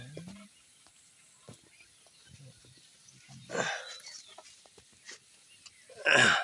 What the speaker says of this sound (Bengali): কোয়েল পাখি যে সুন্দর কোয়েল পাখি